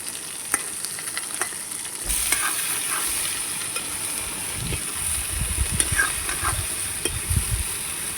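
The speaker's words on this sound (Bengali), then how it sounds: "ভালো করে কষিয়ে নিচ্ছি।" Pumpkin and prawns sauté in oil in a wok, giving a steady close sizzle with scraping stirs and small clinks.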